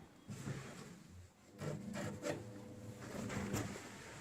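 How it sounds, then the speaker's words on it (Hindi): A stitched fabric seam on a homemade tote bag is ripped open, giving faint, quiet bursts of tearing and rubbing in short repeated strokes, close to the microphone. "अब हम इस साइड में आते हैं, यहाँ पे भी ये सिलाई पहले चीरेंगे"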